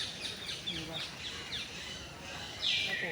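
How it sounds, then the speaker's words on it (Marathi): Colourful parrots in a city zoo garden give repeated sharp, chirping calls, moderately close and fairly faint, with the loudest squawk near the end over a low background hum. "ओके पोपट हे बघा पोपट आहे"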